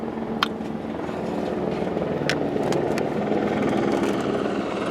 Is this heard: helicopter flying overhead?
yes